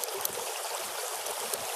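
A small stream flowing beside a campfire on rocks in Iceland, a steady broadband rush of running water with faint low knocks and bumps underneath, no talk.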